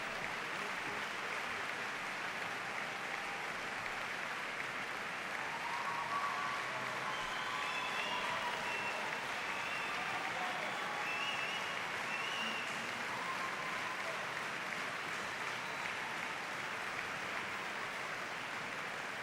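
A large crowd at a professional ballroom dance festival final in Blackpool gives sustained, dense applause that holds steady throughout, with faint cheers rising now and then.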